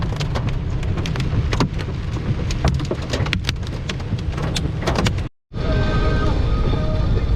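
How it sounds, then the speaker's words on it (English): Heavy rain pounds a car on a highway during a severe thunderstorm with hail, a steady dense roar of rain and road noise that cuts out briefly and then returns just as loud. "storming so bad that we couldn't see anything at all"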